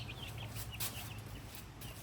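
A backyard chicken gives soft, quick clucks while being handled, faint and close amid a low background hum.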